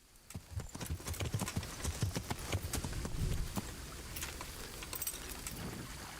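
Horse hooves clip-clop in a steady walking rhythm from the Kingdom Come: Deliverance video game, close and moderately loud with light jangling along the way.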